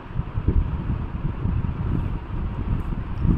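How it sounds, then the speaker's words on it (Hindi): Wind gusting across the open deck of a long sea bridge, a steady low buffeting rumble with irregular surges against the microphone, no voices. "हवा चल रहा है मस्त"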